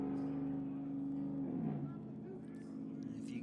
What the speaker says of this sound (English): Someone has a real loud truck.